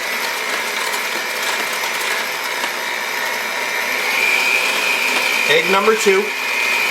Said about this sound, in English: I'll grab my mixer. So I'm just going to start mixing this together.